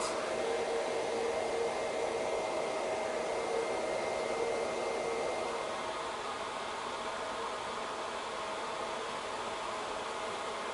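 A hair dryer runs continuously and steadily throughout, a close, loud, even blowing roar with a faint hum tone, while hair is blow-dried into a natural wave.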